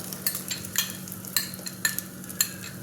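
An egg fries in hot ghee, giving a steady low sizzle with regular light scraping or tapping strokes recurring about every half second, close and moderately quiet.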